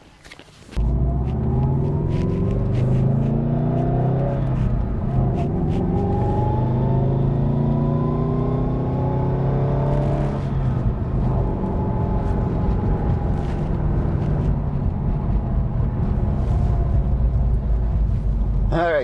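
Subaru WRX STI pulling away on a drive, the engine note climbing through several gear changes after an opening thump, a steady close rumble for most of the run with occasional clicks.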